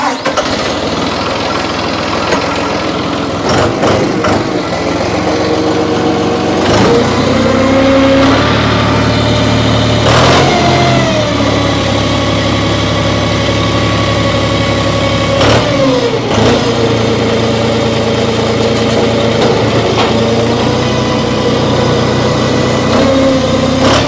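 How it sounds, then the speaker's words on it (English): A 2012 John Deere 5055D tractor engine cranks and fires, then settles into a loud, close diesel idle with several rises and falls in revs along the way. "Guys, I'm going to start this tractor up."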